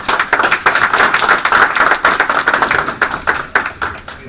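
An audience clapping at a community gathering, steady and dense, with many hands close by and no voices over it.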